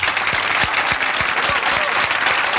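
Audience applause, a dense burst of many hands clapping quickly, close and loud, filling the short moment alone without talk.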